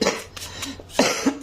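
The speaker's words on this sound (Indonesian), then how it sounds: "cuman kadang-kadang ini masih suka nongol batuknya tuh kayak masih ada yang nyangkut-nyangkut gitu" A lingering cough from someone who has mostly recovered from an illness comes as a series of close, abrupt coughs, about four or five sharp bursts spread over a second and a half, alone without talk.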